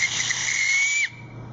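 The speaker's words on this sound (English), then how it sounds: "if you keep trying, you'll get a nice loud whistle" An acorn cap blown as a whistle gives one shrill, piercing tone, loud and close, held steadily for about a second before it cuts off abruptly.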